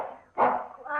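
A dog barks in a radio drama, a single loud close bark bursting out after a brief pause, with a voice-like tone running around it.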